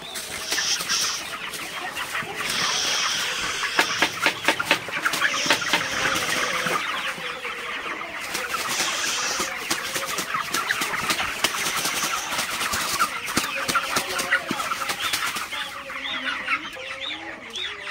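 A flock of broiler chickens clucks and chatters continuously, many birds at once, busy and fairly close, with no talking.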